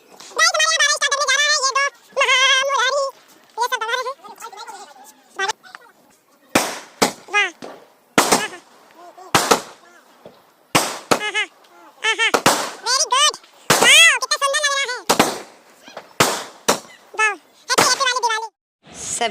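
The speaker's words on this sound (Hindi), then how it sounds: "ये पटाखे देखो ऐसे करते हैं बस" Firecrackers go off on a rooftop during Diwali and Bhai Dooj celebrations, sharp loud bangs popping in irregular bursts, some in quick succession, between stretches of people talking.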